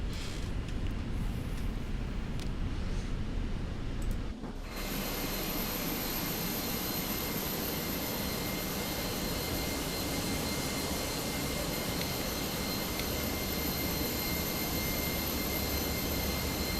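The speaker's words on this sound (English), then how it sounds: "we can go ahead and shut down engine" A jet airliner engine in Microsoft Flight Simulator 2024 winds down, a loud broad roar that shifts abruptly partway through into a steadier whine and hiss that carries on to the end.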